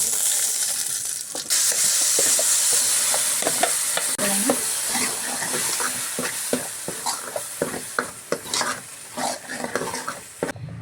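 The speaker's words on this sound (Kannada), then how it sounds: "ನೆಕ್ಸ್ಟ್ ಕರಿಬೇವು ಹಾಕ್ಕೊಂಡು ಸ್ವಲ್ಪ ಫ್ರೈ ಮಾಡ್ಕೊಳ್ಳೋಣ." Steady sizzling of curry leaves and garlic frying with ground masala in a hot pan for sambar, with occasional scraping and stirring clinks against the metal, continuous throughout.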